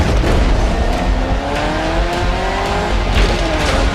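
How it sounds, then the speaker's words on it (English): A Lamborghini Urus SE SUV drives hard, its engine roaring loud and close with rising revs, and tires squealing throughout. "The new Lamborghini Urus SUV."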